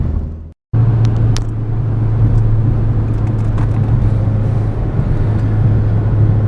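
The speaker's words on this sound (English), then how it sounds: "driving this 2009 Chevrolet Cobalt SS Turbocharged LNF" A 2009 Chevrolet Cobalt SS turbocharged sedan with the LNF engine drives along, heard from inside as a loud, steady low rumble of engine and road noise after a brief cut at the start.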